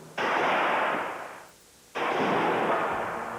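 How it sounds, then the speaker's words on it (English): An air cannon fires a 2x4 at a wall model during home wind-resistance testing at an engineering research center: two loud, roaring broadband blasts, each about a second and a half long, separated by a brief lull. "The most common test is with a cannon and a 2x4."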